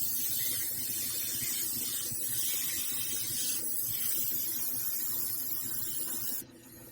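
An airbrush or spray can hisses steadily as Mr. Color lacquer is sprayed onto a Hulk sculpture, a continuous close airy spray that cuts off abruptly near the end.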